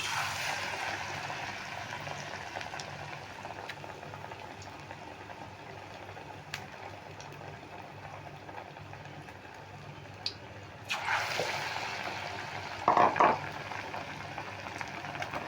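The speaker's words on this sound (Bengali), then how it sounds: "তেলটা গরম হয়ে গেছে এবার আমি ছেড়ে দিচ্ছি" Egg omelette pieces dipped in batter and dropped into hot oil in a small wok make a soft, continuous bubbling fry that swells at the end with a few brief clinks.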